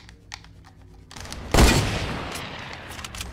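A single sharp sniper shot in Fortnite cracks out loud and close, followed by a decaying tail, after a stretch of quieter game noise and clicks.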